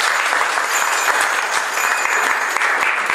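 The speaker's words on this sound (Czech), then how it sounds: "potlesk ještě jednou pro děti" Audience applause for children at a show in the Teplice botanical garden, a short, dense burst of steady clapping with no talk over it.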